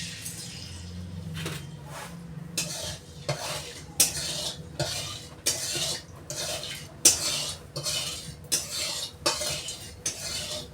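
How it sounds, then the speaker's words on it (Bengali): Potatoes frying in oil in a pan for a village-style mutton curry, with repeated close scraping stir strokes and clattering utensil sounds over a low sizzle; no talking. "তেল দেওয়ার পর আমি এই তেলে আলুগুলো ভালো করে ভেজে নেব।"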